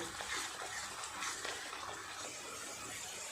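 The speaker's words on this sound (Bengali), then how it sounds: "আর একটু এইভাবে নেড়ে চেড়ে জল দিয়ে দেব।" Water pours steadily into a pan of simmering egg curry, a continuous broadband splashing gush lasting the whole stretch at moderate level, with no voice over it.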